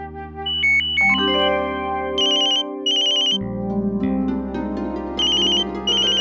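A mobile phone ringtone plays alone in a domestic TV-drama setting, a bright electronic melody with repeated high chiming bursts over sustained tones, clear and close for about six seconds.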